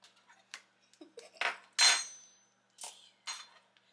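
Ricotta cheese goes into a bowl amid a few sharp clinks and knocks of a utensil against the bowl, separated by quiet gaps, close and fairly faint.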